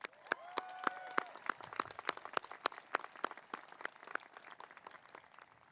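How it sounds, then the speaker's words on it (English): A commencement audience applauds a graduate at the University of Northern Colorado's 2022 fall ceremony: dense, steady clapping from a large crowd, with sharper individual claps popping out of the wash and a few brief voices near the start. "Let's give another round of applause to Dakota."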